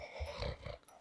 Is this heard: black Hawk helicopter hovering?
no